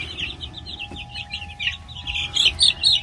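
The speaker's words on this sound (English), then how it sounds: "Very happy chickies, aren't ya?" A flock of meat chicks in a brooder cheeps and clucks softly and continuously, high chirps overlapping close by with a faint steady hum beneath.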